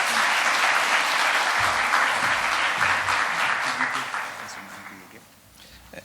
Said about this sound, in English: I would like to ask all of you to give a round applause for Professor